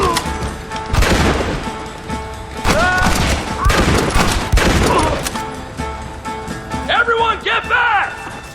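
Gunfire in Red Dead Redemption's game-movie shootout: dense, continuous fusillade of rifle and pistol shots with booms and crashes. Shouted voices run over and between the loud shots throughout.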